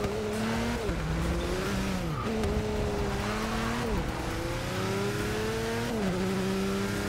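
A race car engine in Forza Motorsport 6 howls loud and close, repeatedly climbing in pitch then dropping sharply at each gear change, with faint tire squeal beneath and no talking.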